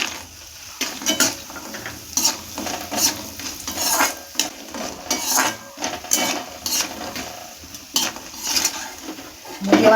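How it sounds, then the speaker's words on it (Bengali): Lentil dumplings (bori) frying in mustard oil in a kadai, with a bubbling sizzle under rhythmic metallic scraping and clanking from a spatula stirring them through the pan. "এবার আমি বড়িগুলো ভেজে নেব।"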